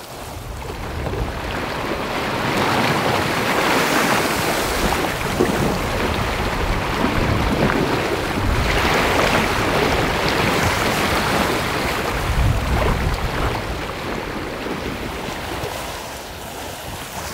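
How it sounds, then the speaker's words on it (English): Caribbean sea waves washing and sloshing around a sailing boat under way, a steady loud broadband rush with swelling surges and wind noise on the microphone, no talking. "Typical Caribbean wave pattern, at least two different dominant directions"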